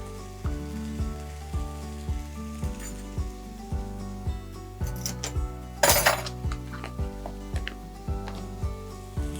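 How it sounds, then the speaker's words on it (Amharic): Stirring food frying in a pan over a bed of rhythmic background music, with a steady sizzle, scraping of the utensil and a sharp clink near the middle. "እንዳያርብን እናማስላለን።"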